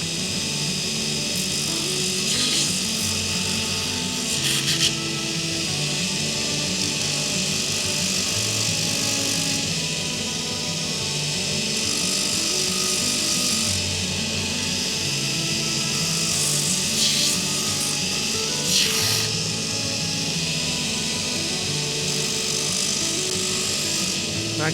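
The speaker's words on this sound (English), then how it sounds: "So I've just given the handle a bit of a light sanding. Might do it by hand too." A coal shovel's wooden handle being sanded by hand, steady scratchy rasping strokes that run continuously and loudly throughout, with a few sharper scrapes along the way.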